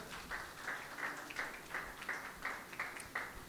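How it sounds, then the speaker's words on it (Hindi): A congregation applauds at a Sunday church meeting, heard faint and distant. The clapping is steady and rhythmic, with regular beats that sound like a crowd clapping in time. "यीशु मसीह के लिए जोरदार तालियां बजाएं।"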